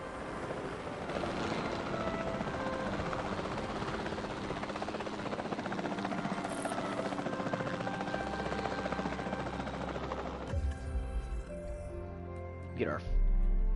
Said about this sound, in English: take control of this helicopter real fast